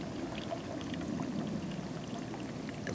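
Water purified from a pond by a portable reverse-osmosis purifier pours in a steady, soft continuous stream, close by and alone, with no talking.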